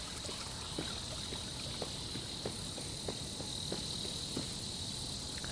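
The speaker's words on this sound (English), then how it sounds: "I can feel this cicada chirping again right next to me." Within the Nostalgic Train game, a cicada drones close by beside a waterfall pool, a steady, shrill buzz layered over soft trickling water, with faint regular clicks.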